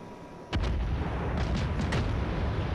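Naval guns fire at a battleship in the game World of Warships, a sudden loud booming salvo followed by several rolling blasts and a sustained low rumble, no talking.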